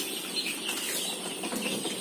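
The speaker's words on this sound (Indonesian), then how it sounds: "Inilah ayam-ayam saya" Chickens clucking in a farm yard where chickens are raised alongside black soldier fly maggots, a dense, continuous clamor of many birds at moderate distance.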